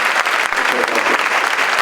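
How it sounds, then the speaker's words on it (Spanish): Loud, dense clapping from a lecture audience at an Ibero-American festival after a literature professor's talk; continuous applause throughout, close and full. "Le damos un aplauso."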